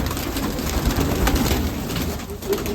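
Soft pigeon coos murmur over a steady outdoor background hiss, fairly close but low in level, with no talking.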